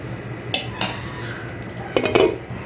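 A lid clinks onto a pot of thin goat-meat and potato curry set to cook on a medium flame, with two sharp metallic taps and then a longer rattling settle near the end, over a low kitchen hum.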